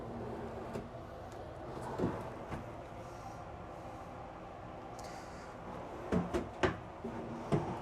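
Drawers in the bathroom of a 2026 Newmar Dutch Star 4369 motorhome sliding open and shut, several sharp wooden knocks and thumps spread across a quiet room, louder clusters near the end.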